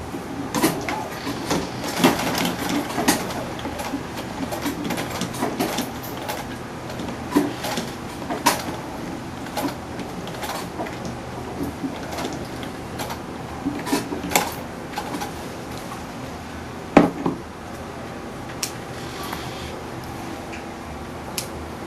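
A sewing machine stitches buba fabric for African men's wear in quiet, uneven bursts of whirring, with sharp clicks and clacks scattered throughout.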